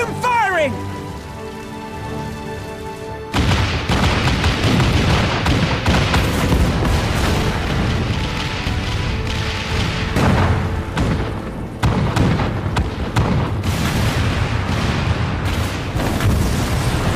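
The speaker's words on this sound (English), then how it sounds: "All cannons resume firing!" Cannons fire in a battle in the video game Final Fantasy XIV, with heavy repeated booms and crackling blasts in a dense, continuous barrage that starts abruptly after a quieter opening.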